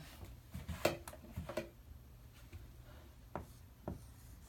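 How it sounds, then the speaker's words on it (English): Board eraser rubbing away a maths lesson's chalk or marker numbers, heard as a few short scraping swipes up close, followed by a couple of faint taps in a quiet classroom. "So let me erase it."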